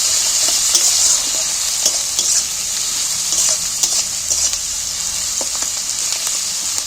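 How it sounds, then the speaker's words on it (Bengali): Onions frying in a pan, a steady bright sizzle throughout with occasional scraping and clinking as they are stirred, close and continuous, no talk. "পেঁয়াজটা তো আমি খুব লাল করে কিন্তু ভাজছি না"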